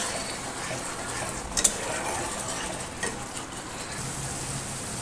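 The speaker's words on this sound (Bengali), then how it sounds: "মশলাটা কষা হচ্ছে, মশলাটা কষতে থাকুক" Spice paste frying in a pan for a chicken dish, a steady soft sizzle running throughout with a couple of brief clinks from a spoon or utensil stirring, no talking.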